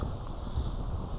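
Strong hurricane-force wind roars and buffets steadily against the rider of a 2024 Wired Freedom electric bike, a continuous low rushing noise close to the microphone.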